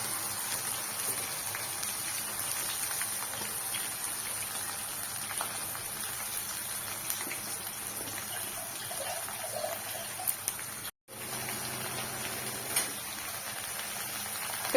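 Chopped bitter gourd frying in hot oil on lowered heat after chillies were tempered, a steady dense sizzle and crackle throughout with one brief dropout near the end.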